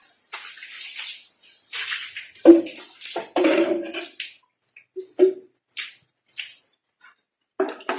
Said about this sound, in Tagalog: Kailangan hugasan talaga yung dingding mga ka-farmers.